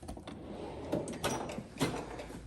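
A toolbox drawer slides open in a garage workshop, giving a short scraping rattle of metal runners, close and fairly loud, lasting about two seconds.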